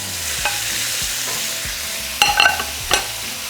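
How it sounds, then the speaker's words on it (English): Beef sizzles in hot oil in a pan, a steady frying hiss broken by a few sharp stirring scrapes and clacks near the end, with no talking. "so in the same oil, we're going to throw in our meat"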